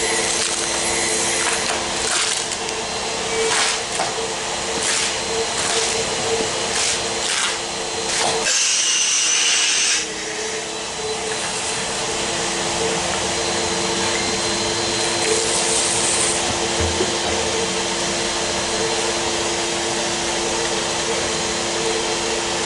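A Shark Grip manual air-powered spray gun sprays speck coating onto a countertop, a steady loud hissing rush that runs almost continuously, with one brief pause partway through.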